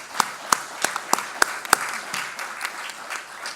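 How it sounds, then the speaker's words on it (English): An audience at an academic research day applauds faculty members, with a few sharp, distinct claps standing out over a broad wash of steady applause that gradually thins. "Let's give them another round of applause."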